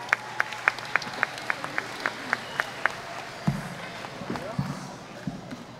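Applause at a Hawaiian school's year-end ho'ike for the second grade teachers: a crisp, steady rhythm of nearby hand claps over a murmuring crowd, then a few dull thumps as the clapping fades.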